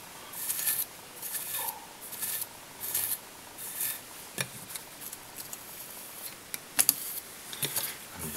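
A mascara brush strokes through fly-tying wing fibers on a sinking sunray fly in repeated short, soft scratchy rubbing strokes, close and quiet, with no talk.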